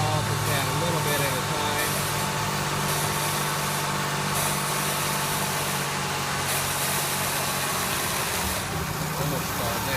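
The 3800 V6 of a 1988 Buick LeSabre idles steadily with a low, even hum while Seafoam treatment is fed into it, and someone talks over the running engine.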